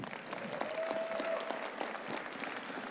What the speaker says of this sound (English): please a big round of applause for your IFBB Vice President and Head Judge here at the Olympia